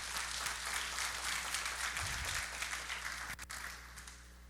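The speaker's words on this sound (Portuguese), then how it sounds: "Pode aplaudir ao Senhor mesmo." Church congregation at a congress applauding, a steady wash of distant clapping heard faintly through a hall ambience, thinning out toward the end.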